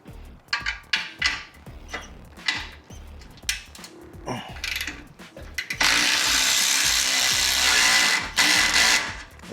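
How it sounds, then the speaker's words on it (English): A ratchet with a 15 mm deep socket loosens an exhaust clamp on a Harley-Davidson Road Glide: irregular clicking bursts of the wrench close by, then a few seconds of louder, steady mechanical whirring. "switch over to your 15 deep socket so you can get this clamp off"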